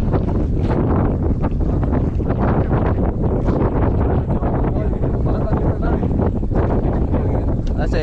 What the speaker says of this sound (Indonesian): Apa-apa dah angin kencang.